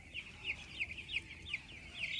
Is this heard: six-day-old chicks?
yes